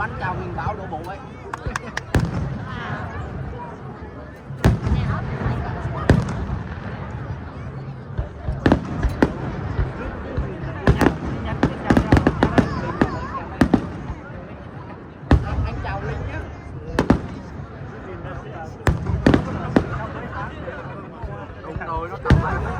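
Fireworks bursting at the Tonami fireworks festival in Toyama, Japan, with sharp loud booms and crackles repeating irregularly over about twenty seconds beneath steady crowd chatter.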